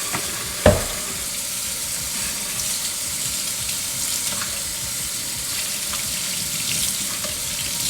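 A pot roast sears in a hot pan, giving a steady crackling sizzle with a sharp clatter near the start, then continuous frying hiss and scattered pops throughout, fairly close and unaccompanied by speech.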